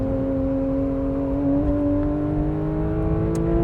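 A 2022 Porsche 911 GT3 accelerates hard around the Road Atlanta race track, heard from inside the car as a loud, steady engine drone whose pitch climbs gradually, with no talk over it.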